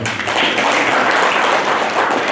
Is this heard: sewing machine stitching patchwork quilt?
no